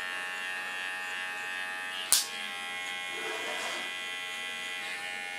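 An electric hair clipper buzzes steadily and close up while cutting hair, its hum constant throughout, with a brief sharp click or snap near the middle.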